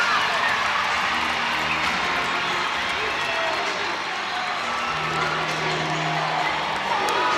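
Arena crowd at a women's college gymnastics meet, LSU versus Georgia, cheering and clapping for a beam routine, a steady loud wash of voices and applause under commentators talking.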